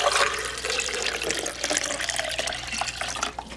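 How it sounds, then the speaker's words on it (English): Water pours steadily into a blender container holding diced potatoes, filling it to the 8-cup mark while making a continuous splashing, gurgling stream close by, with no voices. "Then you're gonna add some water up to the 8-cup level."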